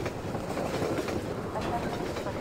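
A long train rolls past in Half-Life 2 with a continuous rumbling, clattering rail noise and faint rhythmic clicks, steady and fairly loud throughout.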